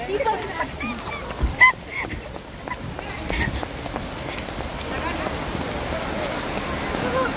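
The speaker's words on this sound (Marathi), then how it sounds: "पाऊस चालू झाला." Rain patters steadily and builds at a water park, with a few brief voices and bird-like honks early on before the sudden shower settles into a constant hiss.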